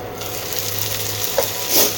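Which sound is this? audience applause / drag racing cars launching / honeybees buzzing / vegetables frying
vegetables frying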